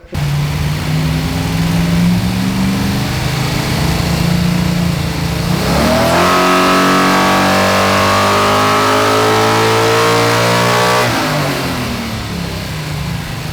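A carbureted, nitrous-fed LT1 engine in a Chevy S10 revs hard on a dyno, loud and close, climbing through a long sustained pull before easing back down.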